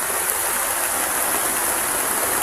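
A swollen creek runs high after rain, giving a constant, loud rushing roar of water with no breaks and no voices.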